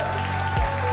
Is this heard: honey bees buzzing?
no